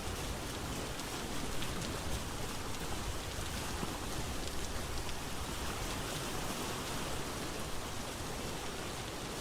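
Steady rain falls in the video game Vintage Story, a constant even hiss of downpour with no break or change in intensity, heard alone without speech.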